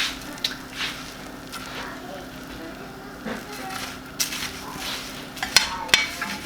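Cereal is stirred into melted butter in a pan, with soft scraping and shuffling under a low, steady hiss, and a few sharper clinks of the utensil near the end, all close and moderately quiet.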